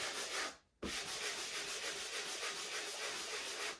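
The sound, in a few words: block sander sanding drywall patch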